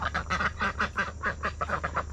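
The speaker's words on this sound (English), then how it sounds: "the ducks are just scared of the water hose" Several ducks, scared off a front porch by a water hose, quack in a rapid, busy chorus of close, loud calls, roughly four per second, with no talking.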